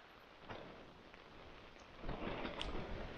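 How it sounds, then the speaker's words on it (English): Heavy, sustained rain drums on a pyramid-style backpacking tent, a faint continuous patter that thickens into louder bursts, heard alone without talk. "So it's been 3 hours of sustained heavy rain"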